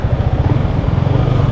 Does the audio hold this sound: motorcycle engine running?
yes